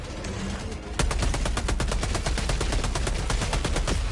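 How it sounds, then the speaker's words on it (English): A turret fires in Helldivers 2 during a battle against the Illuminate. After a brief lead-in, loud rapid shots start abruptly and continue in a fast, steady, unbroken stream. "And now we got a sniper turret"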